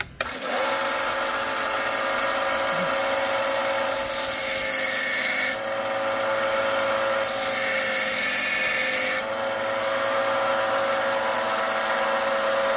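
A Delta 1X30 belt grinder runs steadily while a chisel is ground against the belt, a continuous loud whine with a rough rasping edge that shifts slightly as the steel is pressed and lifted.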